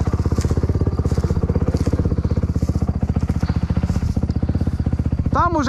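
A 450cc dirt bike engine revs hard and steadily while stuck in a forest bog, with a dense, loud, continuous roar close by and a brief higher whine near the end.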